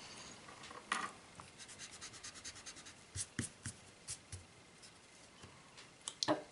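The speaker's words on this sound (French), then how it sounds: "donc je vais gommer" A pencil eraser rubbing graphite off a paper drawing, heard as faint close scratchy strokes in uneven bursts, some sharper rubs standing out against a quiet room, with no one talking.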